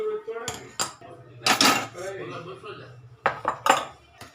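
Sukhdi is poured and spread into a metal plate, with several close, sharp metallic scrapes and clinks of a utensil against metal, separated by quieter gaps.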